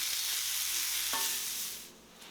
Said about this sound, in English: Get that stirred up, and let's go ahead and saute these.